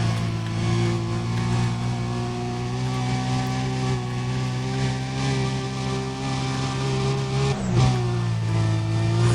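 A car in Need for Speed: Undercover accelerates hard along a highway sprint, its engine a loud sustained high-revving drone with steady harmonics, briefly dipping into a gear shift or scrape near the end.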